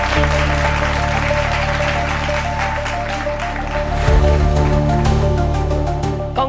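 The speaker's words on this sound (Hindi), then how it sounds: "जोरदार तालियां" A group applauds Renuka at a team celebration, steady dense clapping running the whole time over a continuous musical backing, with a slight swell partway through.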